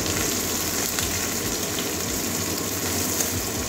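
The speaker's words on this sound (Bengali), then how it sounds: "পেঁয়াজটা একটু ভেজে নেব কাঁচা গন্ধ যাওয়া পর্যন্ত" Chopped onion and green chilli frying in oil for an eggplant bhujiya, giving a steady, dense sizzle that holds evenly throughout with no voices.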